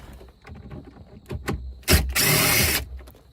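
A power driver or drill whirs briefly to back out aftermarket strap screws inside a Ford Bronco, with a short loud burst after a few ratcheting clicks and handling noises.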